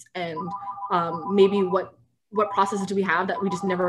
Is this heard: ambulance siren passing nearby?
no